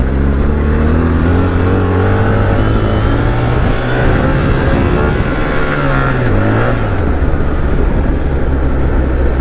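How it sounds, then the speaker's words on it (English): A 2025 BMW R1300 GSA motorcycle engine revs up and settles, loud and close, with a steady mechanical drone and rising and falling pitch throughout. "It is a noisy engine mechanically."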